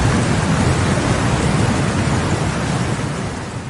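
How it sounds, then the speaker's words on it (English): Heavy downpour during Super Typhoon Tapah in Guangdong, a loud dense roar of rain with a deep rumbling undertone, steady throughout and easing slightly at the end. "This was not just rain, it was a relentless downpour, battering streets, homes, and the entire infrastructure"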